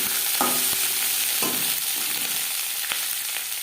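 Onion stalks (peyaj koli), washed and cut, fry in hot mustard oil with a dense, steady sizzle, punctuated by a few spoon knocks and stirring scrapes close by, no talk.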